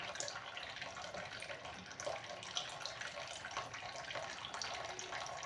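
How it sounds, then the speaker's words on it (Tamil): A steady stream of water runs from a tap, a continuous soft hiss and splash with no talking. "தண்ணி திருப்பி விட்ருக்குறேங்க பைப்பில் மெதுவாக. அது வந்து சவுண்டு வருது"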